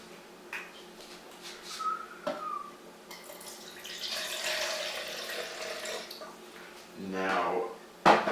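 Tap water runs briefly into a measuring cup at a kitchen sink while making pizza dough, with soft clinks of a cup and dishes and a gush of water near the end.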